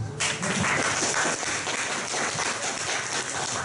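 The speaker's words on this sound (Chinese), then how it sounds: "因为我没有说掌声，大家就知道要掌声这样子哈" A gathering at a self-introduction event breaks into applause, a dense, even wash of clapping that carries on through the whole stretch.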